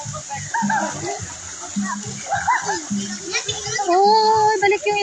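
Water splashes as a child dives and plays in a pool, bursts of splashing mixed with lively children's voices and chatter throughout, fairly close and busy.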